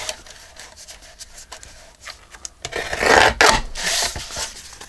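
Folded, dyed journal paper is trimmed, producing scratchy rasping cuts that start soft and scattered, then grow louder and denser in the final seconds, with no talking.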